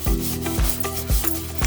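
Car body filler on a wheel arch being sanded flat with a sanding block, several steady rasping back-and-forth strokes, close and loud, with no voices.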